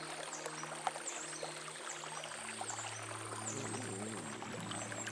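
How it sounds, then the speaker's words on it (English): Running water in the medieval game Kingdom Come: Deliverance II, a steady pouring stream with trickling detail, joined by a low sustained ambient tone, heard alone without talk. "I want to hear the water"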